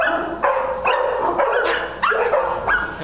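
Several dogs bark and yip at a busy dog daycare, overlapping loud barks repeating every half second or so with whimpers in between, close and continuous with no talking.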